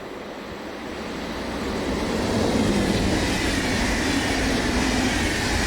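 An empty EW IV passenger shuttle train runs from Zürich toward Locarno on the Gotthard line at Altdorf, giving a steady, broad rolling rumble with rail noise that swells slightly and holds loud throughout.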